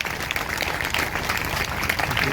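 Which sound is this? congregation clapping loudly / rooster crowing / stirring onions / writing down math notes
congregation clapping loudly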